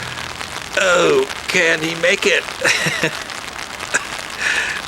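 Rain falls steadily on an Amsterdam street as a wet hiss under the whole clip, with a voice speaking briefly over it.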